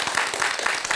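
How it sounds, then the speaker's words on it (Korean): Audience applause at a Korean Buddhist talk broadcast, a short burst of many hands clapping together, fairly loud and even, with no voices over it. "박수 한 번만 다시 부탁드리겠습니다"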